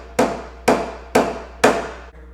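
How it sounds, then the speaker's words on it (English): Wooden cross rails hammered into holes: four evenly spaced, sharp hammer blows, each ringing briefly before the next, close and loud with no talking. "You're going to hammer it into both sides like this."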